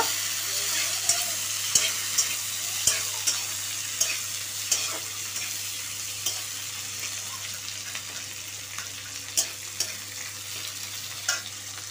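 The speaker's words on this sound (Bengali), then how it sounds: "দিয়ে একটু হালকা করে ভেজে নেব।" Onion pieces frying lightly in a pan with chopped chilli for chili chicken, a steady sizzle broken by frequent stirring scrapes and spatula clicks, close and continuous with no talking.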